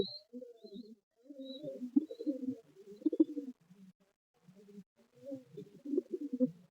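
Madras pigeons give a run of soft, rolling coos close by, several phrases rising and falling with brief pauses between them and no people talking.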